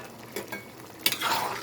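Chicken curry is stirred in a pan after a glass of water is added, with a low simmering hiss and a couple of quick scraping stirs, close and brief.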